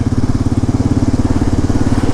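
A Kawasaki KLR 650 motorcycle ridden on the road in Sumatra in first gear at low revs puts out a steady, close, throbbing single-cylinder thump with an even, rapid pulse and no speech.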